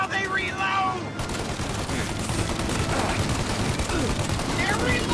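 Rapid bursts of enemy turret gunfire in the Mafia Definitive Edition video game, a dense, loud rattle of shots that runs continuously through the clip alongside game sound.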